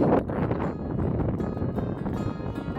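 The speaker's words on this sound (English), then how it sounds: "As you can hear, the wind was getting pretty strong" Strong wind buffets the microphone in a continuous, loud roar with gusty surges, no voices heard, while climbing toward a summit in New Zealand.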